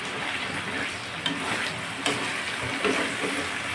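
Tomato and spice masala frying in a pan for chicken biryani gives a steady close sizzle and hiss, with a few soft clicks from stirring over it.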